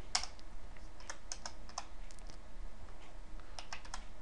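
Fingers type on a computer keyboard set up for video games, a quick irregular patter of close clicking keystrokes that runs steadily with no talking.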